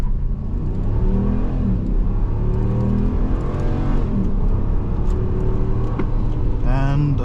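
A Ram 1500 pickup truck accelerates hard from a standstill toward 60 mph, its engine note climbing steadily through several upshifts under continuous road and tire noise, heard from inside the cab.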